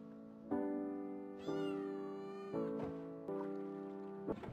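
A cat meows four times in a scene from a Polish film. The cries are close and clear, with the last one rising in pitch, and no one speaks.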